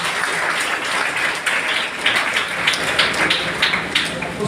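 Steady applause from a crowd at a prize distribution ceremony, a dense patter of claps that holds throughout with a few brighter swells, no voices standing out.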